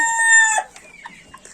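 A rooster's drawn-out crow fades into soft, scattered clucks from nearby hens in a coop, fairly close and otherwise quiet.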